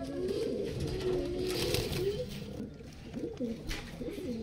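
Pigeons coo in soft, repeated, close-up phrases, one overlapping the next, with light background noise.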